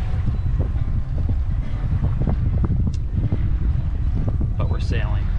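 A sailboat on Outer Harbor in fluky, shifting wind, with steady wind buffeting the microphone and low water and hull rumble throughout, plus a brief voice near the end.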